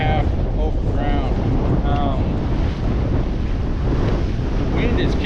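Strong wind buffets a sailboat at sea, roaring loudly and continuously against the microphone, with rushing water and the rumble of the hull under way.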